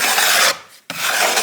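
Grout-like mortar being scraped into the seams of a faux brick fireplace, a loud rasping scrape that pauses briefly and then resumes, close and alone.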